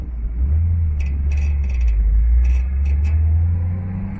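A 1965 Ford Mustang A-Code convertible with a four-barrel carburetor rumbles as it drives off, with a deep steady engine drone and a slight rise in revs. Brief higher rattles or squeaks come through above the engine.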